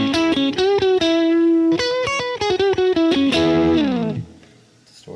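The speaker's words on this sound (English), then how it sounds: "Angry Rodent, which is like a Proco rat." Electric guitar played through the Angry Rodent distortion preset on a Fender Mustang Micro Plus headphone amp, modelled on a ProCo RAT: loud, dense distorted chords and riffs in quick rhythmic bursts, ending with a fading ring-out.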